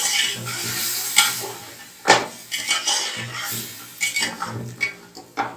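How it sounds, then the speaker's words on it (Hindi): Metal utensils clatter and scrape against a pot as meat is stirred and fried with yogurt, with several sharp knocks and steady clinking throughout, close and moderately loud, a faint sizzle underneath. "दही डालकर भी हमने थोड़ा सा इसको भूनना है।"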